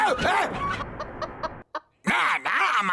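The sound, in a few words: chickens clucking in cartoon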